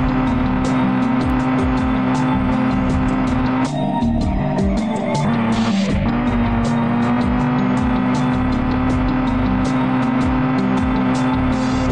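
A car accelerating at full speed in a flying-car simulator video game, with a loud, steady, high-pitched engine whine and a brief whooshing burst in the middle.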